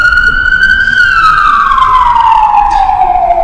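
Emergency vehicle siren wailing loudly and close, a steady sustained tone that slides downward in pitch as the vehicle passes, filling the whole moment with no talk over it.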